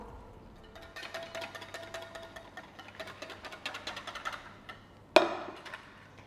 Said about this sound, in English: add a small amount of our warm milk to our vegan egg and setting agents and just whisk that together